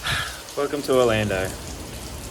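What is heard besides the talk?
heavy rain pouring down in Orlando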